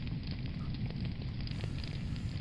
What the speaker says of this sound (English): fire crackles warmly